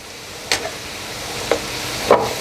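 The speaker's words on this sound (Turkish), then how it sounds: "Bir yandan da etimiz kavruluyor" Meat and tomato paste frying in a pan for çökertme kebab, a steady soft sizzle broken by a few sharp stirring scrapes of the spoon against the pan.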